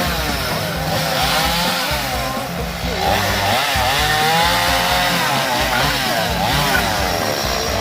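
A chainsaw roars loudly and steadily, its engine pitch rising and falling as it bites through branches, close by with no voices.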